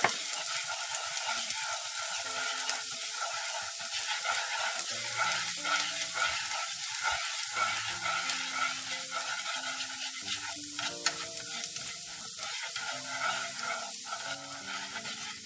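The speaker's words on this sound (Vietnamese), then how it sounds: "Mình vào mình phi cho nó thơm lên á" Minced garlic sizzles and crackles in hot oil in a pan, a steady bubbling fry with occasional stirring scrapes, no talking.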